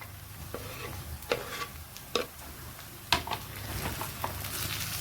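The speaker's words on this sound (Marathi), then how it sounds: "त्यानंतर आपण टाकणार आहोत 1 कापलेला टमाटर।" Chopped tomato going into potato masala gravy frying in oil, with a soft steady sizzle broken by several sharp scraping stirring strokes at uneven intervals, close by and with no talking.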